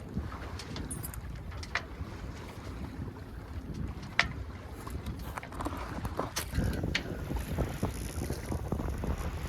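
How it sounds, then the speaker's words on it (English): Wind rushing past a sailboat near Bainbridge Island as the breeze picks up, a steady broadband roar with gusting swells, water slaps and creaks of the rig throughout. "Wind has picked up."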